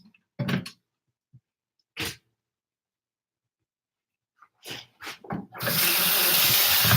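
A kitchen tap runs into a sink to rinse food, a strong steady splashing stream that starts near the end after a few scattered thumps and clatters from handling things at the sink.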